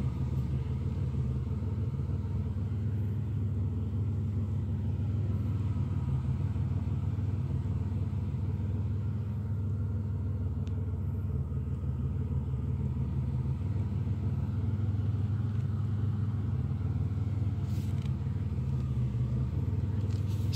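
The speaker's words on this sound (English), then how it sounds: "I hope you enjoyed the two cold starts on the 1992 Buick Regal and this 1995 Oldsmobile Cutlass Ciera" A 1990s Buick Regal or Oldsmobile Cutlass Ciera idles steadily after a cold start, a constant low engine rumble held close and even throughout with no talking.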